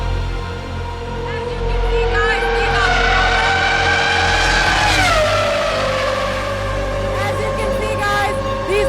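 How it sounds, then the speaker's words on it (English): Former Ferrari Formula 1 race cars scream past on a circuit, a loud, sustained high-revving engine wail that rises and then drops in pitch as a car passes close by, over a steady low rumble. "These are the former F1 cars on this track, and these are from an era which really sound amazing and the best."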